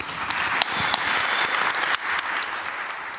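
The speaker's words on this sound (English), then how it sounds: "Please give them all a round of applause." Applause from an audience at a live event, steady dense clapping throughout with a few sharper claps standing out, no talk over it.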